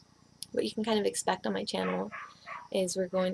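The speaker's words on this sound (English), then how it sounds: "I'm so sorry for the dogs barking." Someone talks steadily while dogs bark in the background, their short yips breaking through his speech.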